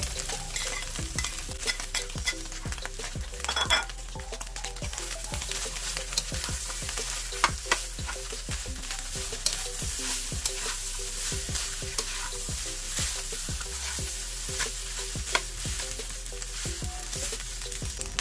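Cold leftover rice frying in a pan for fried rice with vegetables, a continuous sizzle with frequent sharp clicks of a utensil scraping and stirring, close and fairly even, no voices.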